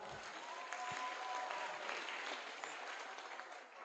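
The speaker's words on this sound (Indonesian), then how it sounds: "Sekali lagi tepuk tangannya, biar tambah semangat." Steady audience applause at a campus student orientation session in a hall, fairly soft and distant, sustained evenly for several seconds with no talk over it.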